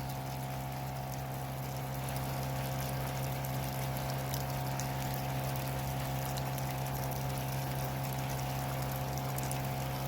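Water runs steadily through a high-flow 0.3 micron canister filter being washed, a continuous, even rush and hum of pumped liquid with no pauses or voices.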